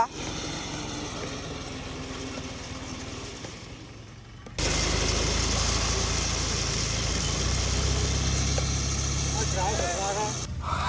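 A grass-cutting machine runs on a playing ground, its engine droning steadily at moderate volume, then jumping suddenly louder partway through and staying there.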